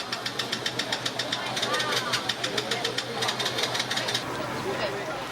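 A small motorcycle engine putters in a steady rapid rhythm over splashing from fast tidal floodwater in Incheon, then sputters out and falls quiet near the end.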